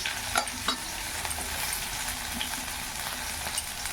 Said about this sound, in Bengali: এবার এর মধ্যে আমি পেঁয়াজগুলো ছেড়ে দিলাম।